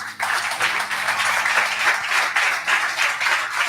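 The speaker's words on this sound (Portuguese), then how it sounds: "É um aplauso a Jesus." Congregation applauding in a charismatic church service, dense sustained clapping filling the whole stretch with a low musical hum beneath.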